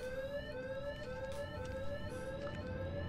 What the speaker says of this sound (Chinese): 有个隐藏的警报器，修女马上就来